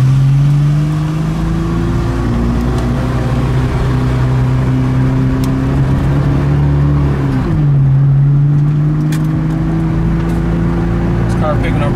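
A Nissan GT-R pulls hard through its gears, engine note climbing in long steady sweeps with a shift dip midway, loud and close from inside the car, with a voice talking over it.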